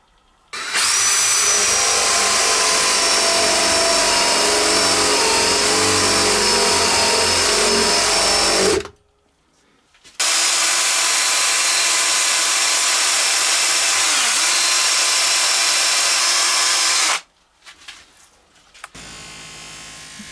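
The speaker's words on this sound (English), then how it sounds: "Just marking out the center point in preparation for drilling the hole for my branding" An electric drill bores a hole for a branding coin into a wood-turned object, running loud and close in two long, steady bursts of about eight and seven seconds separated by a brief pause, with no talking.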